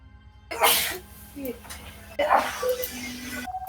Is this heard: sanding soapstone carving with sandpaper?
no